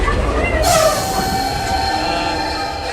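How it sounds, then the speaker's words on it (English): Steady rumble inside the cafe car of a moving Amtrak train, with rattling and a thin metallic squeal drifting through the loud, continuous noise. "This is a dumb little cafe on a train."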